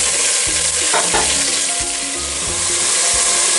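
Chopped onions and green chillies fry in hot oil with spices, a loud steady sizzle broken by repeated scraping stirs of a spoon against the pan, with no talking.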